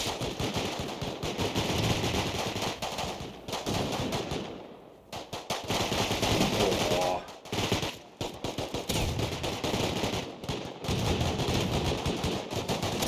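Rapid automatic gunfire in the survival game Rust rattles loud and near in long sustained bursts, with brief pauses between volleys and faint voices barely audible beneath.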